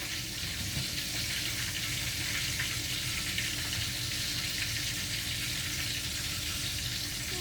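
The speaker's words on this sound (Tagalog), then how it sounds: "Ako ay nagpiprito lang ng isda." Fish frying in a pan in a home kitchen, a steady broadband sizzle and crackle running evenly throughout at close range, with no voices.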